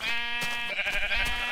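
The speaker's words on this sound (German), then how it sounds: "Oh, ein Schaf." A sheep in the Minecraft video game bleats with a wavering, drawn-out cry that stays loud and steady throughout, with no talking in the clip.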